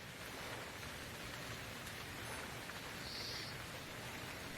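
Rain in the survival video game Stranded Deep falls as a steady, even hiss of continuous downpour, faint and unbroken, with no voices.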